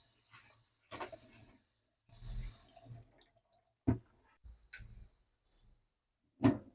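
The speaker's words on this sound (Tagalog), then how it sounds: "So, itong cabbage natin, hugasan natin nga pala." Cabbage being washed in water: scattered wet splashes, drips and handling noises in a quiet kitchen, coming in short separate bursts with gaps between, fairly faint and close.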